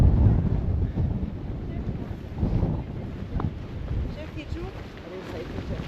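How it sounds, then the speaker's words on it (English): Heavy wind gusts batter the microphone while hiking up Arthur's Seat in Edinburgh, a loud, rumbling low-frequency roar that swells and eases, with someone talking beneath it. "I think it's going to be windy on top."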